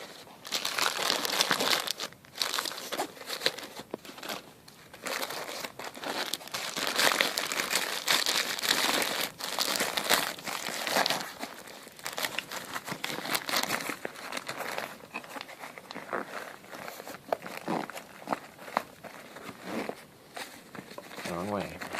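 Plastic zip bag holding silica crinkling and rustling continuously, close by, with irregular crackles and handling noises throughout.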